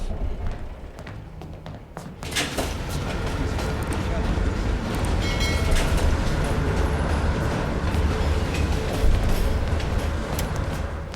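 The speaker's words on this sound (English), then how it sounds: "Train's slowing down." Moving train in the Call of Duty: Black Ops Cold War cutscene, a steady loud rumbling roll with occasional thumps and rattles that starts after a quieter opening, continuing throughout under voices.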